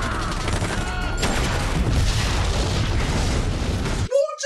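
A building explodes amid gunfire in a movie action scene: a loud continuous roar of blasts and rapid shots that cuts off abruptly into a brief tonal sound at the end.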